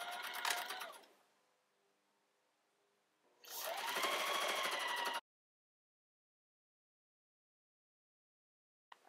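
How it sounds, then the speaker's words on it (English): A sewing machine set to straight stitch joins apron pieces in two distinct bursts of rapid mechanical whirring, the second longer, separated by near silence. "So we're going to connect these by sewing them."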